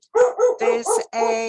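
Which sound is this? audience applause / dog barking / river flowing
dog barking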